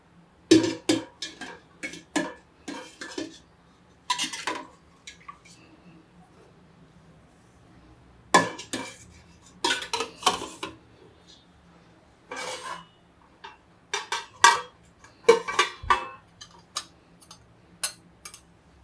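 Rice being washed in a metal pot and set in a pressure cooker for a home lunch, heard as intermittent clattering and scraping of utensils in short bursts with quiet gaps between.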